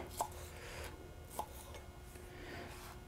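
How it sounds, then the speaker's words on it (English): A knife coarsely chops food on a cutting board in a few sparse, faint strikes over a low background hum. "I'm just going to kind of coarsely chop these up"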